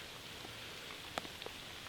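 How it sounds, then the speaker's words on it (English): Rain falling outdoors on an all-day wet opening day of Michigan rifle deer season, heard as a faint, steady patter with a few distinct drops tapping nearby. "It's been raining all day."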